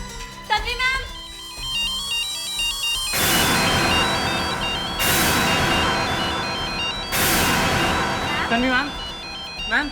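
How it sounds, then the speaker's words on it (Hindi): Telephone ring tone from an outgoing call, with repeated electronic ringing bursts at a steady rhythm, loud and near, while a man calls out between the rings. "फोन करता हूँ।"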